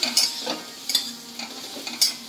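Bottle gourd peel fries in a pan while a spatula stirs it, giving a quiet sizzle under sharp, regular scraping strokes roughly every half second, with no talk.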